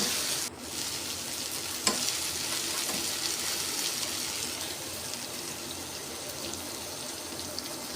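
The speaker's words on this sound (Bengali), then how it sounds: "মাছ ভাজি হচ্ছে।" Fish frying hard and crisp in hot oil in a home kitchen pan, a steady loud sizzle running throughout with a few faint stirring clicks, no voices.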